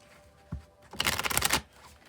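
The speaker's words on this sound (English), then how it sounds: "we'll shuffle till I feel like it's ready" A single soft tap, then a quick burst of tarot cards riffling together for about half a second, close and crisp in a quiet room.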